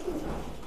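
Pigeons coo softly and steadily at close range in a high-flying pigeon loft, a continuous low murmuring burble with no pause.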